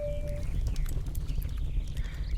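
A horse's hooves clip-clop in the SSO video game in Silverglade near a forge, with a quick run of hoof clicks over a low rumble and a brief tonal whistle at the start.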